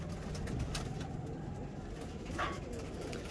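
A breeder pair of pigeons coos softly in short low murmurs, close but faint, over a steady background hum.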